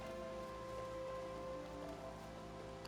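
Rain falls in Minecraft as a continuous, even patter of drops on surfaces, steady and moderately quiet throughout with no voices.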